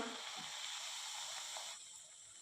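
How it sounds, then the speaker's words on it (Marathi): Sweet jaggery puri fries in hot oil, a steady bright sizzle and hiss that runs strong, then eases off and quietens toward the end. "इथे आपलं चे तेल छान गरम झालेलं आहे आता आपण पुरी सोडूया"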